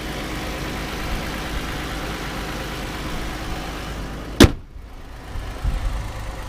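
A 2014 Ram ProMaster 2500 high-top cargo van with a 3.6 liter V6 idles steadily at close range, a low even engine hum with one sharp knock midway and no talking.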